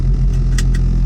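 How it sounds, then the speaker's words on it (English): Low engine vibration from a car idling with worn motor mounts, a steady rumble and buzz inside the cab carried through the dash, with a couple of faint higher rattles. "the engine vibration inside the cab on the dash, so you're gonna hear some vibrating until we get going"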